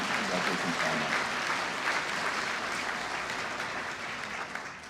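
Sustained applause from a luncheon audience in Vaughan, honouring police, fire and paramedic services, fills the room as a dense, steady wash of clapping that eases off slightly toward the end.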